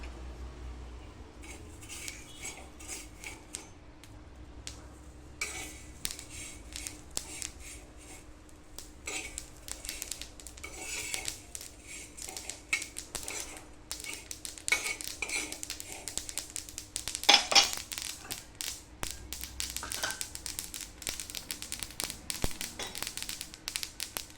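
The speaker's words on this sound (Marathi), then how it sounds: "आता मी त्याच्यामध्ये खसखस आणि तीळ टाकते, ते पण भाजून घेते" Poppy seeds and sesame seeds dry-roast in a pan alongside onion, with intermittent sharp crackles and scraping stirs of a utensil against the metal, growing busier and denser toward the end, fairly close.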